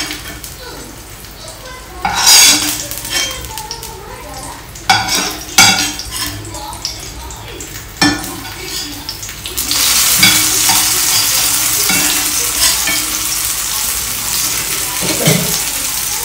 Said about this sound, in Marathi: पण आता मी ना तळून घेते 4-5 पीस अजून.